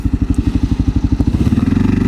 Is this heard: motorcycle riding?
yes